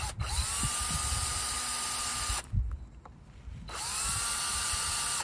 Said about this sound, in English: I'm just gonna drill into the end of this here.